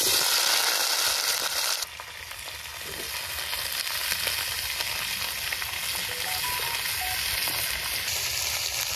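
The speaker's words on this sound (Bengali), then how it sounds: "এখন নুন হলুদে একদম ঢেকে ঢেকে ভাজা ভাজা করে নেব" Cauliflower frying with salt and turmeric in a wok, a loud continuous sizzle with occasional stirring, close and steady with no talk.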